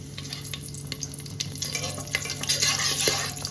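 Whole garam masala spices and bay leaves hit hot refined oil in a pan for chicken tehari, giving a dense close sizzle with crackles and spits that build toward the end, no voices.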